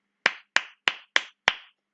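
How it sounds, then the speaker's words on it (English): Five sharp hand claps ring out at an even, deliberate pace, close and crisp, each separated by brief silence, with no talking. "You could make up a code with a friend where the number of times you clap means something."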